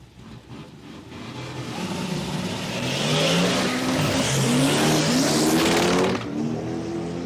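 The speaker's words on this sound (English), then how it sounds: "This gorgeous supercharged big block Chev powered Toyota Crown." A supercharged big block Chevrolet powered Toyota Crown launches down an eighth-mile drag strip, its engine roaring and climbing through the revs as it pulls away, loud and building before cutting off sharply.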